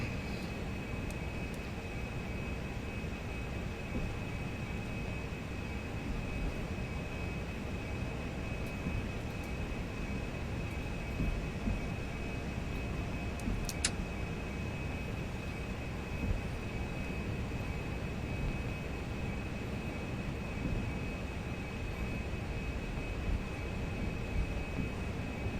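Airliner taxiing in a flight simulator game at Denver, a steady low engine rumble with a constant high whine running throughout, even and unbroken with no talk.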